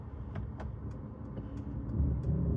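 A 2024 Mercedes-AMG C63 S E Performance creeping in reverse during automatic parking, a low, quiet hum from the car that swells slightly toward the end, with faint clicks and no voices.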